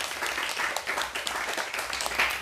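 Audience applause at a charity visit to an orphanage, a steady wash of clapping from a room of people, moderately loud and continuous throughout.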